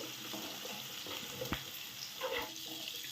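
Crushed garlic frying in oil for a North Karnataka style stuffed brinjal curry, a steady close sizzle with a couple of brief stirring scrapes in the pan.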